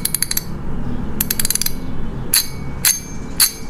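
A fishing reel's clicker ratchets in sharp, bright bursts of rapid clicks, followed by several separate loud single clicks, close and clear.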